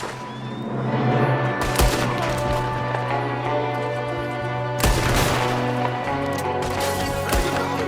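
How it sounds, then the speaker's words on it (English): Gunfire rings out in the Red Dead Redemption 2 video game: several loud, sharp volleys of shots burst out over a steady bed of game ambience and sustained tones, spaced a few seconds apart. "There's another one shooting from the window."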